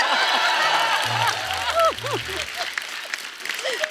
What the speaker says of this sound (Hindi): पापा क्या ताली बजा रहे हैं।